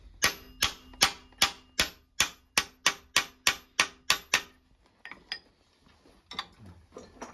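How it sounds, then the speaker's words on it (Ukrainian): A reamer cuts through bushings on the clutch shaft of an MTZ-80 tractor, producing about a dozen sharp, evenly spaced metallic clacks, loud and close, followed by a few fainter irregular knocks and rattles. "Райбер плотненько заходить, зараз підганяємо до зубців. він так то крутиться, але плотненько."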